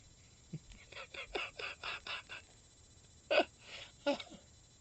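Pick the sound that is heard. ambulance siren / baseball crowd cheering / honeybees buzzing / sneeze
sneeze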